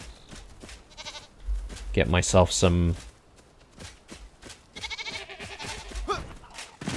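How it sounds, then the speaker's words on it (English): Goats in the video game Enshrouded give a few bleats mixed in with a person talking over them, alongside light footstep-like shuffling. "Let me just check in on the goats, because we also need milk and stuff from the goats, right?"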